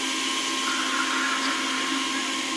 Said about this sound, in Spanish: se oye muy fuerte la licuadora